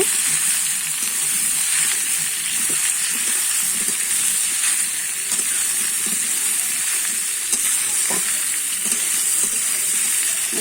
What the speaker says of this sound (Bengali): এবারে আমি কেটে রাখা তরমুজের খোলা সাদা অংশটা দিয়ে দিলাম এবার একটু নেড়ে চেড়ে নেব